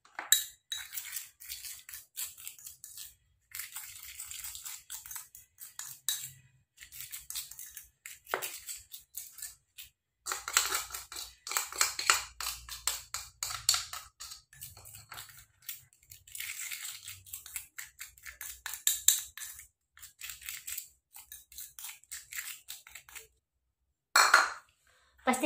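Mashed tomato is stirred together with other ingredients in a bowl: irregular scraping and clinking of a utensil against the bowl comes in short bursts separated by brief pauses.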